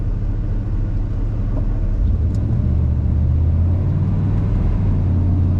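An OBS Ford truck engine idles in gear with a steady low rumble, close and continuous, its pitch dipping slightly and then settling partway through.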